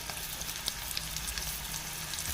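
Raisins fry in a pan with a steady, crackling sizzle, brief sharper pops breaking through the continuous hiss, close and alone with no voices.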